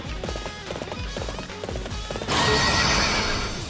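A horse in the action video game Warriors Orochi 3 neighs loudly while rhythmic galloping hoofbeats pound underneath, then a sudden burst of crashing combat noise takes over.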